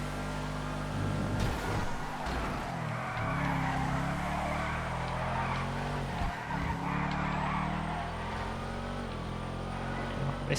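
A drift car in a racing game, its engine droning steadily while the tires squeal and skid continuously through the corners, fairly quiet with no talking over it.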